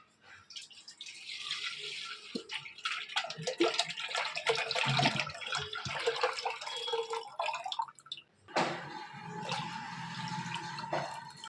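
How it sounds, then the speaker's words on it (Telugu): Water pours and splashes into a bucket for a child's bath in a home bathroom, running steadily for several seconds, stopping briefly, then starting again. "ఇక షానుకి స్నానానికైతే నీళ్లు తోడుకొని పక్కన పెట్టుకుంటున్నానండి"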